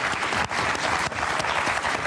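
A French game show studio audience claps on Motus, steady dense applause filling the room for about two seconds with a brief dip midway.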